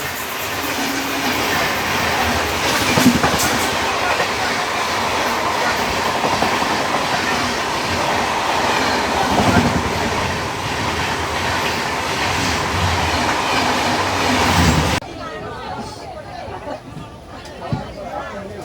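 An Okha–Veraval Express train on the Rajkot to Dwarka line running with steady rumble and clickety-clack, heard from inside among chattering passengers, before the noise abruptly drops.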